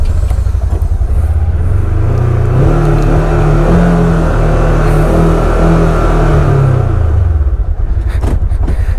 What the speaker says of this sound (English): here's the 2020 ignition for the Polaris Ranger